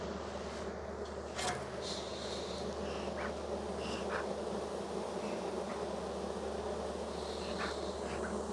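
Honey bees buzz around hives in a dense, continuous drone, close and steady, with a few higher flybys passing through and no voices.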